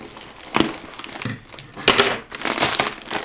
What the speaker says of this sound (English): I'm just using my scissors here to clip through the orange bag.